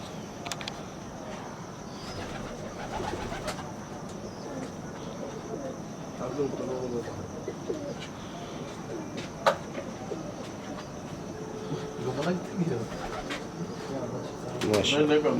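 A pigeon, a high-climbing flying breed, coos softly in short bursts against steady insect chirping and a faint background hum, with occasional low voices nearby.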